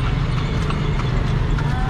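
A horse pulls a ride through Cebu City in the Philippines, its hooves clip-clopping in a quick, steady rhythm close by over constant street background noise.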